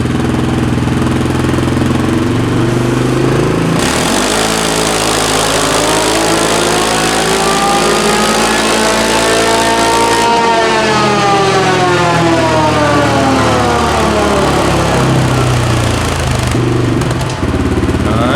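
A 2022 CFMOTO CFORCE 600 or 500 ATV engine runs stock on a dyno drum, warmed up and then pulled through a loud, continuous rising rev sweep with a steady drone. It is heard alone and close, without talk.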